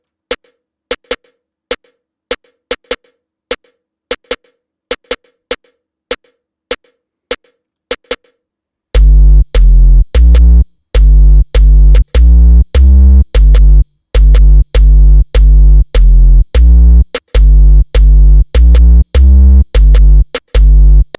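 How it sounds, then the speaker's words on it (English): A beat where sparse snare-like clicks tick alone at first, then heavy 808 bass hits enter and line up with the snares in a loud, steady, repeating pattern. "Every snare beat that can line up with an 808 in your mix should be there."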